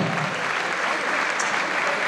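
Applause fills a boxing venue as a defeated boxer leaves the ring, a dense, continuous crowd clapping that holds an even level throughout.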